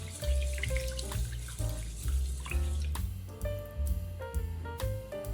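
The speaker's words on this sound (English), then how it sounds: "Rinse the rice until the water runs clear." Tap water running steadily into a bowl while rice is rinsed by hand in a kitchen, a continuous splashing flow with small sloshes and clinks, close and fairly loud, no talking.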